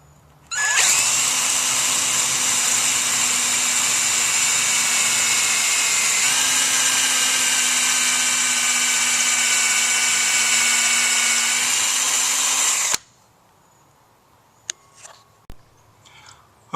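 A power drill bores a small hole for mounting a security camera, whining loudly and continuously for about twelve seconds before stopping, followed by a few faint clicks and taps.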